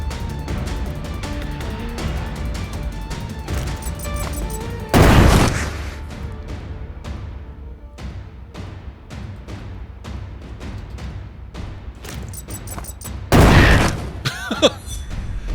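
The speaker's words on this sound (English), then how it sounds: "Let's use a grenade." Two loud, short blasts, about eight seconds apart, from grenade explosions in the turn-based game Shardpunk: Verminfall, each a broad burst over a busy music bed with rapid rattling hits.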